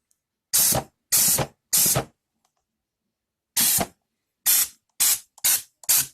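A paint spray gun fires in eight short, loud hissing bursts, three evenly spaced, a pause, then five quicker ones, with silence in between.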